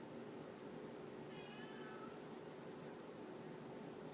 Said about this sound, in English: my cat keeps meowing